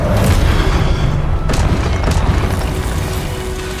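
Confringo fire-blast spell exploding during combat in the video game Hogwarts Legacy, a loud dense booming blast with sharp impacts layered over continuous battle noise, no speech.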